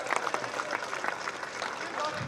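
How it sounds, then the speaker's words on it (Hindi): Audience clapping at a mushaira, Urdu poetry recital event in Firozpur, a steady patter of many hands with voices mixed in throughout. "अच्छा लगा हो तो ताली बजा दीजिए एक बार"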